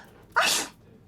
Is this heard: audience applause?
no